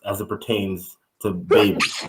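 A single sharp sneeze bursts out near the end, loud and close, right after a stretch of conversational speech.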